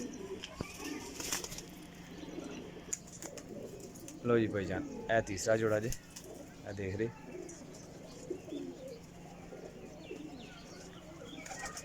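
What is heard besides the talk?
pigeons cooing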